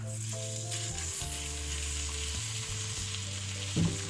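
Okra (bhindi) frying in a cup of oil in a pan, a steady close sizzle with a low tonal hum running beneath it and a brief clatter near the end, no voices.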